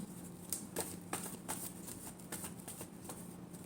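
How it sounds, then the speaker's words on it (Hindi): Tarot cards are shuffled by hand in a quiet room, a series of soft, regular riffling slaps about every half second, faint and close with no voice over them. "Last shuffle."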